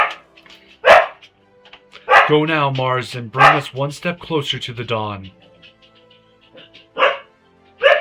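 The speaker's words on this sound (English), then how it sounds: "Sorry about my dog, guys, if you're still watching." A pet dog barks indoors during a Final Fantasy XIV play session. A couple of sharp barks come at the start and near the end, around a game character's spoken dialogue.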